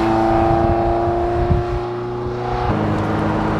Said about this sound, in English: just all adds up to a really terrific sounding engine, and very responsive